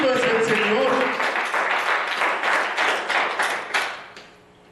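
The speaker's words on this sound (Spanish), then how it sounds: "Dale otra vez fuertes palmas" A congregation at a church service applauds loudly and steadily, the clapping dense and close. A voice speaks over the start before the applause fades out at the end.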